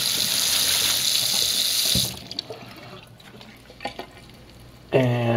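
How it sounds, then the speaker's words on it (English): Running water from a kitchen tap pours steadily over hydroponic growing media being rinsed, loud and close for about two seconds, then quieter splashes and clinks before a short burst of something else near the end. "so we're just rinsing it off"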